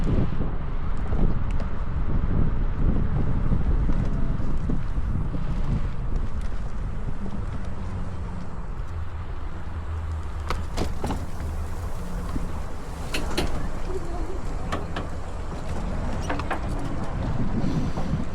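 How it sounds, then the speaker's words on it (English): Gentle waves wash steadily near a boat on open water outdoors, a continuous low rumbling swash with wind buffeting the microphone and a few brief creaks or knocks, moderately loud throughout with no voices. "listen to those gentle waves"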